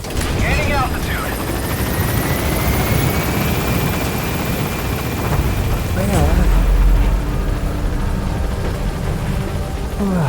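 Helicopter from the video game Metal Gear Solid V gaining altitude after landing at a landing zone, a steady rotor and engine drone filling the scene, with radio-style game voices talking over it.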